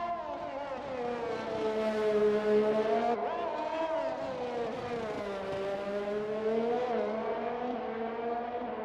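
A race car in a racing video game drones past the line, its engine a steady loud whine that rises and falls through gear changes for several seconds, with no talk over it.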